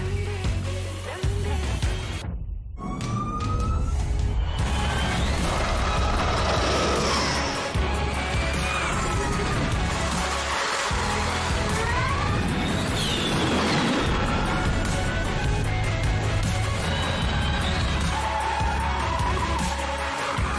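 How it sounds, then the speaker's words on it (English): A Ford electric van slides through a handbrake turn, its tyres squealing and skidding almost nonstop over a steady roar of wind and road noise, loud and close throughout with a brief dip early on. "Max and Checo have already been having a little fun in Ford's electric vehicles"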